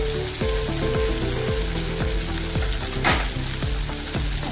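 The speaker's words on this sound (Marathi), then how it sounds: "चांगलं परतून घ्या आपण तेलात" Spices and masala with turmeric, garam masala and salt frying in hot oil, a loud dense sizzle broken by a rhythmic series of regular spatula scrapes about every half second, close up and without speech.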